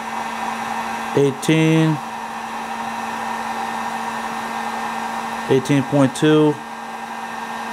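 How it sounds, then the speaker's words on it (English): A 1500-watt heat gun set on high blows steadily on a stator's ignition coil, a constant loud hiss throughout as a man reads out numbers. "this heat gun's putting out like 1500 degrees"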